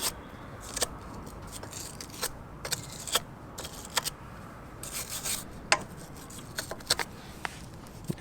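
A wire brush scrubs the threads on a Range Rover Evoque's failed suspension, producing short, uneven bursts of scratchy rasping over a quiet garage background.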